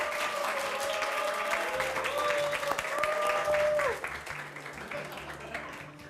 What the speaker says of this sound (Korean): 먼저 김상우 신부님 여러분 따뜻한 박수로 맞아주시기 바랍니다.